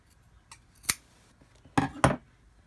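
Scissors snip through shirt fabric in a few sharp, close cuts: one single snip, then two quick ones in succession, with quiet pauses between.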